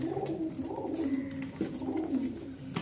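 Pigeons, Rajshahi Giribaz and Bagerhat birds kept in pairs, coo softly and repeatedly at close range, low rolling calls overlapping against a faint background with no talking.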